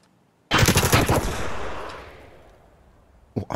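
A sharp burst of rapid automatic gunfire in the video game Escape From Tarkov, loud and close, rattling off quickly and then fading into a long echoing tail, with another shot starting at the end.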